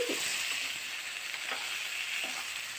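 Eggplant pieces sizzle in a pan and are stirred slowly, a steady bright frying hiss broken by a few soft scraping stirs, close and alone.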